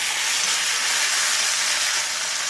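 Beef ribeye steak sizzles steadily in a Lodge 10.25-inch cast iron deep skillet, a loud, close, continuous hiss with no voices over it.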